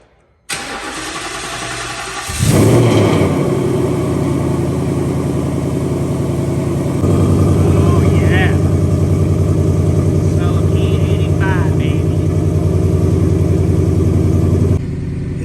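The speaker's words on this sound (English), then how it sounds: "So first things first, we must do a cold start." A 2019 Ford Mustang GT running E85 cold-starts with a sharp crank and catch, then settles into a loud, steady high idle that rises slightly partway through and holds.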